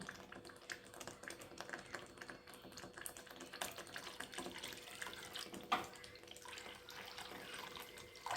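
Water is poured into Khandeshi red spicy faujdari dal, the cooked lentils simmering in a spiced masala; a steady wet pouring and splashing runs throughout at moderate level, with a sharper splash near the end and no talk.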